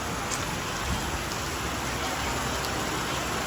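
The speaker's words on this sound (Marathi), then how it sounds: "भयानक असं पाऊस पडतो हे बघा" Heavy rain pours down steadily during a Ganesh idol immersion, a dense, loud hiss of falling water that fills the whole clip without letting up.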